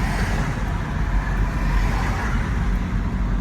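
A car moves along during a driving lesson, its engine and road rumble forming a steady, fairly loud interior drone with no clear rise in pitch. No one speaks.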